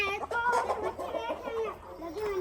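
Chickens cluck softly as they are shut inside their enclosure, with several overlapping calls at moderate distance and a voice speaking faintly underneath.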